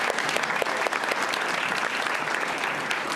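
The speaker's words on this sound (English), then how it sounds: "A round of applause for Rashid." Dense, steady applause from a crowd at a school board meeting fills the room for an awards recognition, sustained and even throughout without a break.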